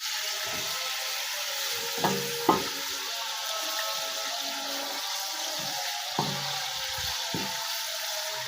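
Steady sizzle of food frying in a pot while rice is being cooked, a continuous hiss with a few soft knocks and clatters of utensils against the pot.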